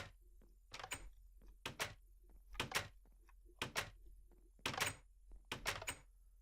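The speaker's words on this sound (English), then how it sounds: "So now, when I step on them, it'll open the door for me." Blocky wooden doors in Minecraft swinging open and shut as a player steps on pressure plates, a series of sharp, close clunks in irregular pairs, with faint footstep-like taps between them and no speech.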